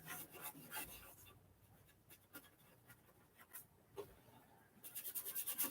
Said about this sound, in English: where you're just scratching and scrubbing the paint with the surface